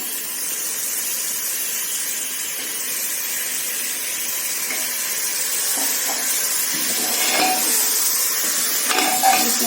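Marinated chicken hits hot masala in a pan for chicken biryani, a steady loud sizzle and hiss with occasional stirring scrapes and clinks of the pan, no talking.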